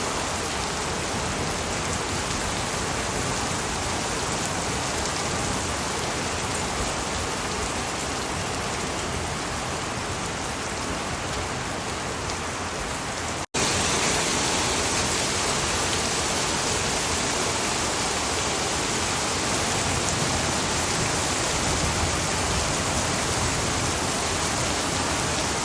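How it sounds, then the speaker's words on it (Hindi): Dense, constant downpour of heavy rain with hail, hissing and drumming without letup, loud and close, with a brief break midway before the heavy rain continues. "अचानक बारिश बहुत तेज़ हो गई और पानी के साथ अब ओले भी गिरने लगे हैं"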